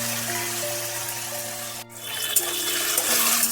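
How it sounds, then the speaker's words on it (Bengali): A little water is poured onto salted peanuts in a steady, close splashing stream that breaks off for a moment before continuing. "আগে অল্প করে একটু জল দিয়ে নিচ্ছি"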